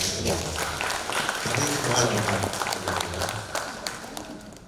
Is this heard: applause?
yes